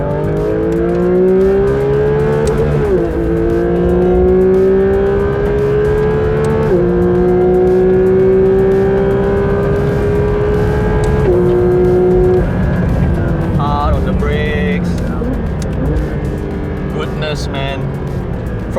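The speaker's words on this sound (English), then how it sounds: "you just listen to the sound of the engine" Porsche 911 Turbo S on the back straight of Sepang race track, engine note climbing loud and close through several gear changes, each upshift a brief dip before the pitch rises again, then easing off near the end.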